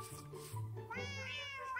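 Cats in Minecraft 1.19 meowing, several short mews in quick succession, close and clear over a faint game background.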